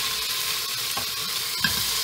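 Steady sizzling of Spam and peppers sautéing in a very hot frying pan, with a few soft stirring scrapes and a brief clatter near the end.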